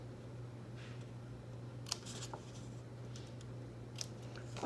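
Scissors make a few quiet, sharp snips while cutting a small square out of paper for a mini portfolio journal craft, spaced apart over a low steady hum.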